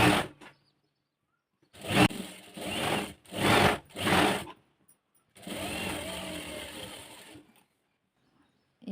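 A sewing machine stitches blouse fabric in several separate bursts of whirring, close and clear, with short silent gaps between runs as the cloth is turned.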